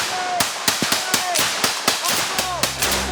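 Sharp rifle shots crack in a rapid irregular burst during a French Foreign Legion assault on an illegal gold miners' camp in the Amazon jungle, close and loud, with a low rumble near the end.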